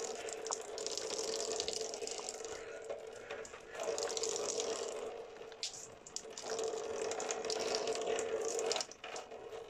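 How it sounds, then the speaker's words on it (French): Water poured from a bottle over the head to rinse hair after a hair transplant, a continuous splashing trickle with brief pauses between pours. "Vous reprenez votre bouteille d'eau. Et c'est parti pour le rinçage."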